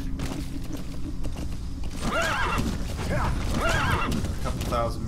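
A horse in the video game Metal Gear Solid V whinnies twice over steady clip-clop hoofbeats, the neighs clear and close, with a voice speaking in between.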